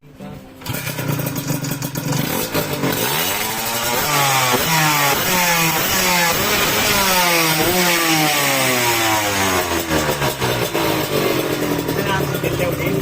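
Honda Beat 110 scooter engine revved hard and repeatedly, loud and close, with rising and falling pitch sweeps from each twist of the throttle, while people talk over it.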